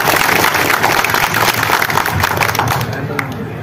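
A crowd at a political rally in Shivhar, Bihar applauds the arrival of a minister, with steady dense clapping and crowd noise that holds throughout and fades slightly at the end.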